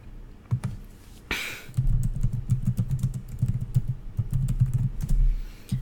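Search terms being typed on a computer keyboard, rapid steady keystrokes close by, preceded by a brief rustle, continuing for several seconds with no talking.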